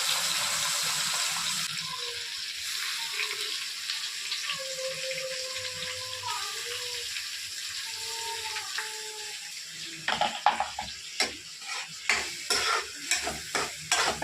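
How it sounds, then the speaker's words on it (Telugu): Mint paste fries in a pan for Sunday-special mint rice, a soft steady sizzle with a faint running-water sound. Sharper scraping clatters of stirring come in near the end. "పచ్చి వాసన పోయేంత వరకు ఫ్రై చేసుకోవాలి."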